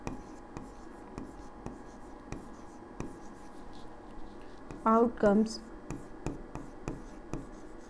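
Marker or chalk strokes on a classroom board during a probability lesson, a short burst of quick squeaky scratches under a teacher's ongoing speech, with faint taps and steady room hiss around them.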